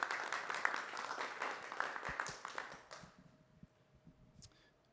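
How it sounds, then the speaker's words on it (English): A symposium audience applauds the panel presenters, a moderately quiet burst of clapping that fades out after about three seconds, leaving a few scattered claps and room noise. "Can we get another round of applause for the presenters?"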